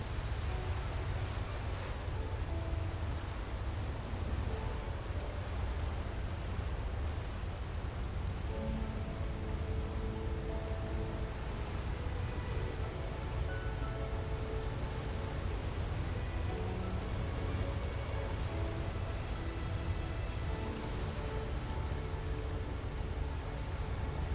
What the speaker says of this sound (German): jetzt gibt es ein bisschen Regen, oder?